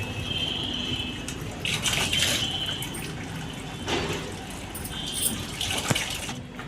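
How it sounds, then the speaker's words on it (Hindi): Water runs from a tap into a container, a steady gushing splash with a few louder surges, moderately close and with no talking over it. "तो मैंने सोचा पानी भर लेती हूँ"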